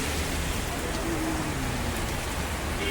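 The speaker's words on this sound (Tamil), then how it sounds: "செம்ம மழை." Heavy rain pours steadily outdoors by a small shop on a hillside, a dense, constant hiss of drops hitting surfaces at even loudness throughout.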